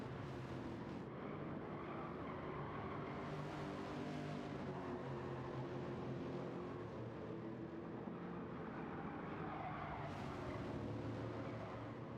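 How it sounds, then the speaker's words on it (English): Race cars in a racing video game at Suzuka, pushed hard with tyres squealing, their engines droning steadily and loudly throughout with no pauses. "you can hear the tyre squeals coming from all four of those locks of rubber"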